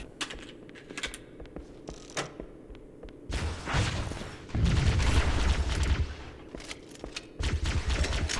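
Gunfire and rocket launcher blasts in Halo: Combat Evolved on Legendary: sparse sharp shots at first, then a dense, rumbling burst of explosions and rapid fire in the second half, fairly quiet overall with no speech.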